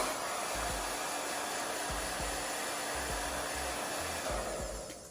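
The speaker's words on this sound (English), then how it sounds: "using my hairdryer to speed up the drying time" A hair dryer blows with a steady, loud whirring drone, its motor tone dipping briefly now and then before fading slightly at the end.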